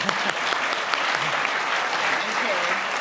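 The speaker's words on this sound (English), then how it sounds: "please, everybody give a applause to Lindsay for this." Audience at a celebration-of-life memorial gathering applauds steadily for the full stretch, a dense, sustained wash of clapping with a few voices faintly mixed in.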